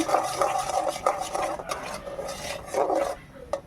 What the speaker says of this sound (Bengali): ঘিটা গুলিয়ে নিচ্ছি